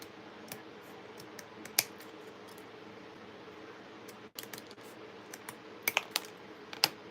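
Scissors snip out paper decoupage pieces for an Easter bunny book makeover: a few sharp, sparse cuts scattered over a quiet room, close by, with no talking.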